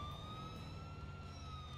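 An ambulance siren from the video game GTA 4 wails steadily as a sustained tone over low engine rumble, close and continuous with no talk.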